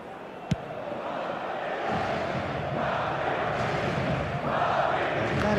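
A stadium crowd cheering in the eFootball 2026 football game, a steady, dense roar of many voices that swells slightly toward the end, with one sharp click near the start.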